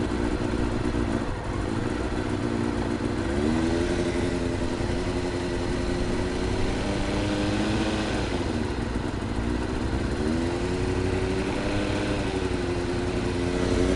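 A Kawasaki ZX6R Ninja motorcycle fitted with a modified Yoshimura silencer runs continuously nearby, its engine droning loudly with slight rises and dips in pitch, and no voices.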